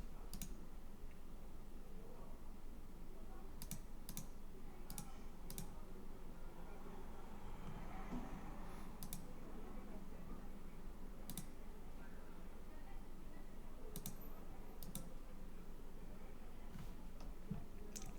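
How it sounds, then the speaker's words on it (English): Sharp, isolated computer mouse clicks come one at a time, faint against a low steady room hum, with a few quick pairs and long gaps between them. "and then I click save."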